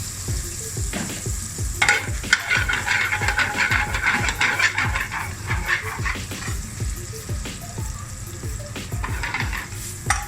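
Garlic and ginger paste sizzling in a pan for a restaurant-style lamb balti, a loud continuous hiss and crackle with a stronger surge a couple of seconds in and scraping stirs throughout.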